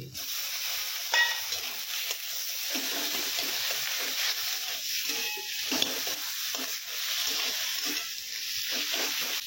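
Chopped tomato frying and being stirred in a pan with chilli, cumin, turmeric and coriander powders for a rohu fish curry masala; steady loud sizzle with repeated scraping stir strokes throughout, no talk.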